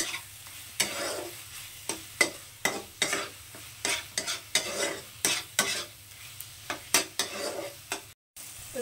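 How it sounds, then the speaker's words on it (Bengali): Spice paste being stirred and fried in a pan over low heat until the oil separates, with a rhythmic series of about a dozen scraping spoon strokes against the pan over a soft, continuous sizzle. Nobody speaks. "একদম তেল বেরোনো পর্যন্ত এটাকে আমি এখন কষাবো একদম কম আঁচে করে।"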